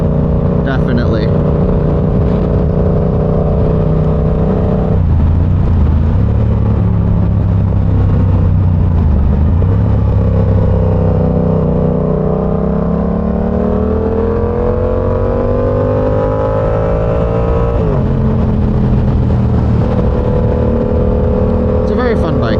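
A Yamaha R7 motorcycle out on a ride, its engine droning loud and close throughout, the pitch rising and falling as it accelerates and eases off, with a voice talking over it.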